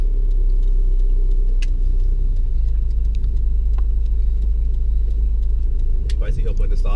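A car drives along a town street, its engine a steady, loud low rumble throughout while someone talks over it.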